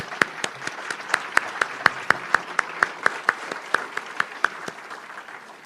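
An audience at a Rotary Club of Madison meeting claps for the club's board members, giving steady applause with a run of sharp, closely spaced claps over about six seconds.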